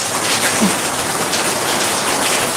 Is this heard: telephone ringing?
no